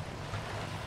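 Water of the river Styx in the God of War 3 video game, a short, faint, steady wash of broadband water and wind-like noise with no voices.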